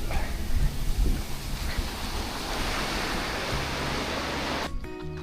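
Ocean surf rolling and breaking on a beach along the Te Araroa coast near Mangawhai, a loud continuous wash of waves mixed with wind buffeting the microphone.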